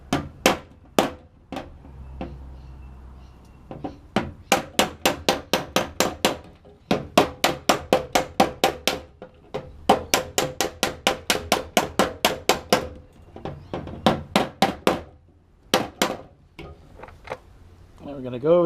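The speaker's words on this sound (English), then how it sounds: "We're trying to get it to where the sheet metal is flat between the dolly and the hammer." Hammer striking sheet metal of a car fender held against a dolly, rapid bursts of sharp ringing metallic taps in quick runs separated by short pauses, close and loud.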